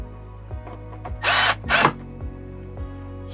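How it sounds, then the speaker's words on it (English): A power drill driving screws while installing an RV air conditioner silencer whirs close by in two quick bursts, surrounded by soft ratcheting clicks and mechanical ticking. "Now we are using a drill here."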